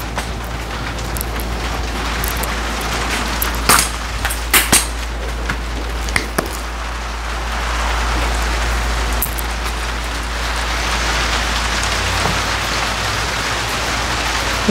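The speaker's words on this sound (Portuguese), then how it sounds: "É a chuva, amor." Steady rain falls on a cactus garden, a dense, continuous patter close by, with a few sharper knocks and drips standing out briefly.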